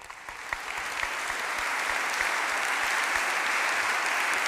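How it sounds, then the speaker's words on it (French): An audience at an Académie des beaux-arts award ceremony for a film director breaks into applause, starting scattered and quickly swelling into a full, sustained round of clapping. "je pense qu'on peut applaudir son travail d'ailleurs."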